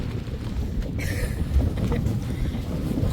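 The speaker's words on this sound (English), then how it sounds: "it's really windy right now" Steady, strong wind buffeting the microphone, a constant low roar with gusty rumbling throughout and no voices.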